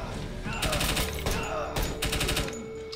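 Rapid automatic gunfire in the tactical video game Door Kickers 2 as a three-gun team clears an entrance of insurgents: several dense bursts of shots over three seconds, loud and close, with a voice talking underneath.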